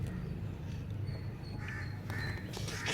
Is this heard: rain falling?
no